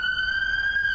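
An ambulance siren holds a loud, steady high tone without pause throughout.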